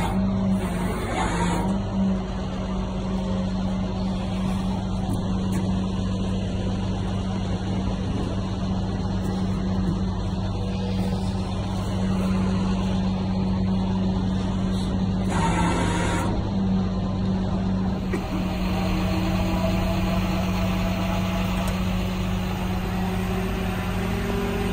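A car's engine runs steadily with a constant low hum as the all-wheel-drive Infiniti Q50/Q60, suffering an accessory belt failure, is loaded onto a tow truck; brief mechanical clatters stand out around the first and sixteenth seconds.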